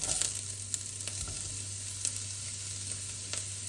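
Ginger hits hot oil in a pan for Filipino-style chicken curry, giving a steady bright sizzle with a few stirring scrapes and clicks over a low hum.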